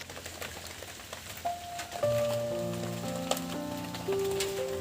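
Rain falls steadily on a cold day, a soft continuous patter with scattered drop taps, joined partway through by a few sustained tonal sounds.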